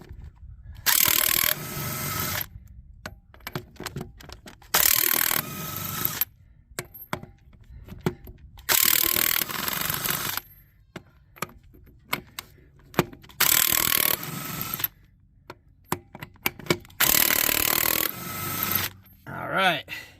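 Impact wrench with a 7/8 deep socket zipping lug nuts off a 2003 Yukon Denali XL during a rear brake job: five loud, roughly two-second rattling bursts with short gaps, plus clanks of handling and faint talk between them.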